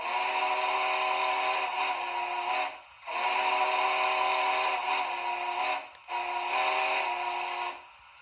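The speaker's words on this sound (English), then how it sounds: "That is a specific Big Boy 4014 whistle." Big Boy 4014 steam whistle played from a SoundTraxx Tsunami 2 DCC sound decoder in a model locomotive: three long sustained chime blasts with short gaps between, steady and fairly loud over a faint hiss.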